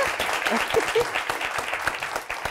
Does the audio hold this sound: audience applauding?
yes